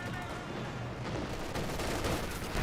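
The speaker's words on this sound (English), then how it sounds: "Grenadiers firing away against the captain." Grenadiers' rifle fire in the real-time strategy video game Company of Heroes 2: a dense, continuous battle din of overlapping shots and crackle at steady loudness, with no distinct single shots standing out.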